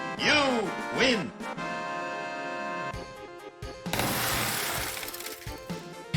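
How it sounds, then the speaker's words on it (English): A bag of money smashes through a car wash window in a video game, a bright glass-shattering crash with scattered tinkling debris, set against looping game music and some sweeping electronic effects. "Here comes a bag of money coming through the car wash window."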